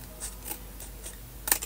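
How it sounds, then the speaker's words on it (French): Scissors trim a millimetre of excess paper from a scrapbooking tea storage box, with a few faint snips followed by two sharper, louder cuts at the end. "je vais venir avec ma paire de ciseaux enlever le millimètre qui dépasse comme ceci."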